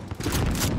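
Continuous automatic fire from a sentry gun in a Call of Duty match, a dense, steady burst lasting under a second at a constant, fairly loud level.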